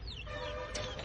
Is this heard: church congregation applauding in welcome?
no